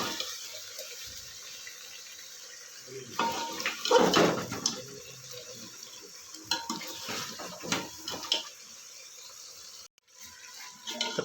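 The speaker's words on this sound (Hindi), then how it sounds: "तकरीबन हमने 4 से 5 मिनट इसकी अच्छी तरह भुनाई कर ली है।" Mutton with garlic-ginger paste is sautéed in a pot for a karahi, with scraping and stirring against the metal, clattering utensil bursts and a low background hiss, loudest around the middle.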